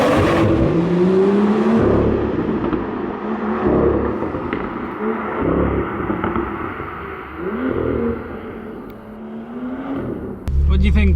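BMW M2 sports car driven through city streets, engine revving and rising in pitch through repeated gear pulls, close and loud inside the cabin with a low rumble throughout and a sharp burst near the end.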